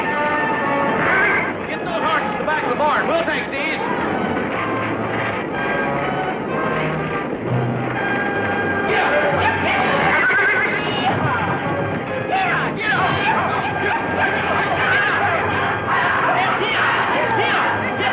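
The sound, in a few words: horses neighing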